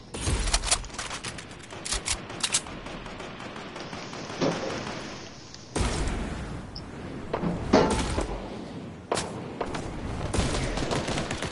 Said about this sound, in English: Yo, King shooting at somebody.